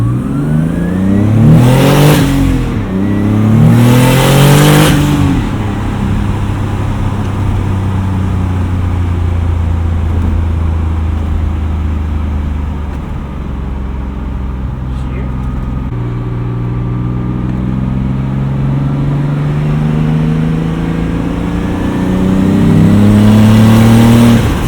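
Turbocharged 1995 BMW 325i engine revving hard from the driver's seat, rising and falling through several pulls with gear changes and turbo whoosh, loud and close, with brief talk in the cabin.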